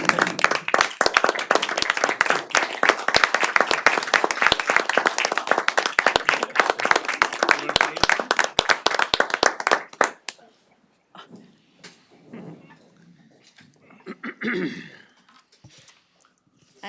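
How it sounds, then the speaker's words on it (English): An audience at a city council meeting gives a dense, loud round of applause lasting about ten seconds, then it stops abruptly. Someone speaks briefly afterward in a quiet room. "let's give her a round of applause that she deserves."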